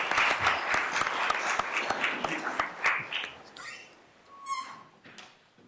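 An audience of a State Bar of Texas panel session claps to welcome the panelists, a dense burst of applause that thins out and fades to scattered claps within a few seconds.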